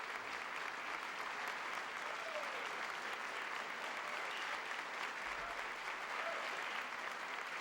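A room full of people applauds for President Ronald Reagan's announcement of a nomination, dense, steady clapping at constant loudness throughout, with faint voices underneath.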